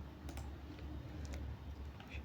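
Arrow keys pressed on a computer keyboard during a Photoshop design session, a few light, soft clicks scattered over steady background hum.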